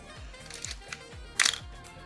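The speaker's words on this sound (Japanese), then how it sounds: "シャッター速度の糸連動も生きておるようです。" A second-hand Canon F-1 film camera fires its shutter once with a single sharp, close mechanical snap against a quiet background.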